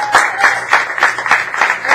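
Short burst of audience applause at an improv game show, a handful of loose claps in an irregular rhythm with a voice briefly mixed in.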